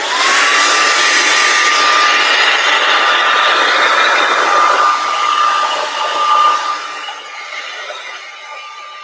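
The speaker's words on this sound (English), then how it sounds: "I'm going to take my blow dryer and maybe force some of that down a little bit more." A hair dryer blows steadily and loudly on wet paint, a continuous whirring hum with a faint whine that fades and drops in level near the end.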